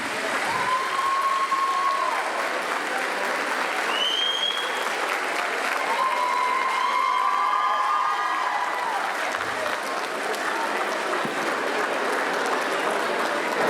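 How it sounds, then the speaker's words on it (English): A concert audience at a Macedonian folk dance group's 40th anniversary show applauds steadily and loudly, with a few faint whistles and tones rising above the continuous clapping. "round of applause, please. Once more for Christy Dimitrievska and Alex Stojanski."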